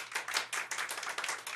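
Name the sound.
audience applause for Medina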